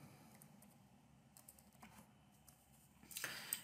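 Faint, scattered clicking of a computer keyboard as a slide title is typed into a PowerPoint presentation, quiet and close, ending with a brighter burst of noise.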